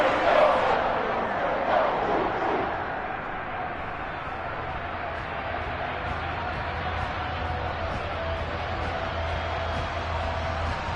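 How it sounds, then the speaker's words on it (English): A stadium crowd cheers in the Madden 23 football video game, with a loud burst of roar early on that eases into a steady crowd murmur, and commentary running over it. "One of the bigger plays in the game thus far, and the crowd getting into it."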